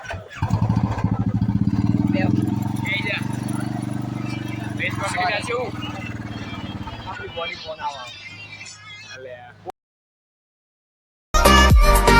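A Royal Enfield motorcycle engine idles with a deep, steady thumping rumble, close by, while people talk over it; the sound cuts out briefly before resuming loudly.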